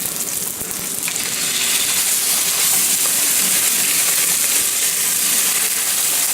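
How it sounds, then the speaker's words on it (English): Steak sizzles loudly in a hot pan with melted butter and garlic, a dense steady frying hiss that swells after a brief dip early on as the meat is turned, with no voices. "Now it's time to turn the steak."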